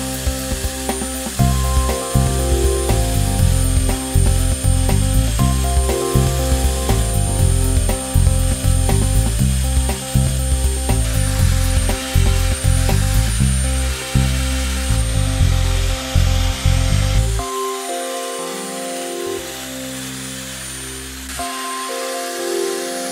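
A battery-powered C-Hog OD clamping pipe bevelling machine runs near and loud, its motor whining and cutting in a choppy, pulsing rhythm before dropping to a lighter intermittent hum toward the end.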